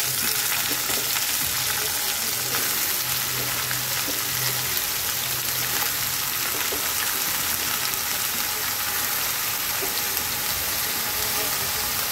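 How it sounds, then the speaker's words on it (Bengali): Mixed vegetables fry in a pan tempered with black cumin seeds, giving a loud, dense, continuous sizzle like heavy rain with faint stirring scrapes. The sound is close and steady throughout, with no talking. "এর মধ্যে এখন আমি সবজিগুলো দিয়ে দেবো।"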